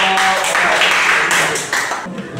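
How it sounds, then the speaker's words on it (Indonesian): Students in a classroom clap for a group that has just presented, a short burst of close, uneven hand clapping lasting a couple of seconds with faint voices mixed in. "Tepuk tangan buat kelompok."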